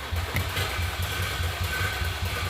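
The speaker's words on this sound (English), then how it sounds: "the car completely cranked over" Nissan VQ V6 engine, previously seized and freed with diesel fuel, running with a steady low rhythmic idle pulse and mechanical vibration, moderately loud and alone.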